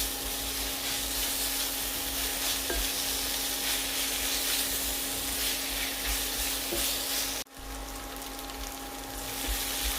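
Green chilies sauté in a pan over a low to medium flame, giving a continuous even sizzle with steady faint hum tones beneath. A brief dip near the end interrupts it, and no one speaks.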